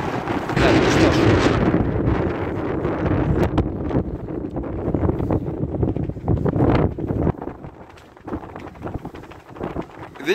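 Strong winter wind buffets a skyscraper rooftop high above Yekaterinburg, roaring loud and gusty against the microphone and easing off toward the end.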